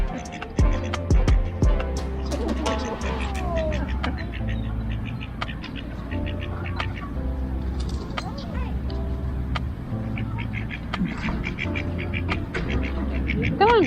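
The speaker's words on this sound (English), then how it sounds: "Come on, ducks, come closer." Ducks quack repeatedly at Victoria Park Lake in Shepparton, calling close by in short overlapping bursts over steady outdoor background noise, with a person speaking now and then.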